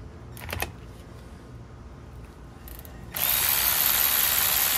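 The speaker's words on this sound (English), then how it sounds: "Taking the bolt out." Power tool loosening a bolt on a Subaru transmission bracket: after a few quiet clicks, a loud steady whirring drill-like motor starts abruptly and runs continuously to the end, up close with no talking.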